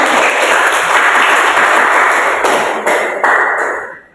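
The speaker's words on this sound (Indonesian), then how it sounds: "Tepuk tangan untuk kalian semuanya." A classroom of students claps together in a loud, close burst of applause that holds steady for a few seconds, then thins into scattered claps and fades out.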